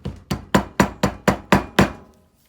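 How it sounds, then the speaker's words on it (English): Eight steady hammer blows driving a mandrel into red clay casting sand for ring casting, with a dull, packed thud, close and loud, evenly spaced before stopping. "And you can start hammering it down."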